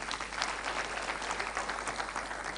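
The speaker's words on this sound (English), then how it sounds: "Please join me to give another round of applause to our panelists." Sustained applause for the panelists at a national employment forum on the future of work, an even, dense roar of clapping hands from a seated audience with no break, heard at moderate level.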